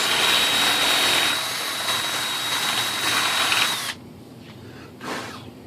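A power drill whines loudly and steadily for several seconds while building a composite sailplane's battery mount, then stops abruptly, followed by a faint brief rustle.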